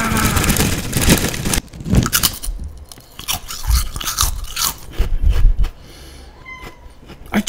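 Shrimp chips crunched and chewed close up, a series of loud crisp bites and crackling chews with short quieter gaps between them.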